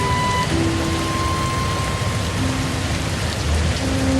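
Steady rain falls on a Costa Rican rainforest at night, a dense, even hiss of drops on leaves and surfaces that holds constant throughout, with a few faint tonal insect or frog calls underneath.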